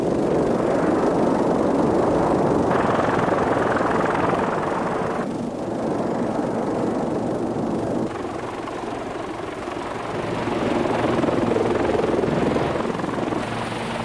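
A helicopter fighting a smoky wildfire on the Pat Sin Leng hillside near Bride's Pool, Hong Kong, and airlifting trapped people gives a steady, loud rotor roar that swells and dips slightly over its length, with no talk.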